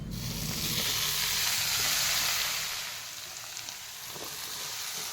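Washed vegetables hiss loudly as they go into a pan of frying onion and crushed garlic, the sizzle swelling and then settling into a steadier crackle while being stirred, with no talking.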